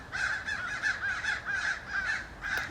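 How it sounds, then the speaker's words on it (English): Crows caw repeatedly overhead in a steady rhythmic series of harsh calls, about a dozen caws in under three seconds, loud and clear with no talking. "And I have a swarm of birds flying above me"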